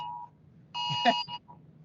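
A phone emergency alert sounds in short electronic tones, a brief beep followed by a louder, harsher burst of layered alarm tones and a fainter trailing beep, fairly close with no talk over it.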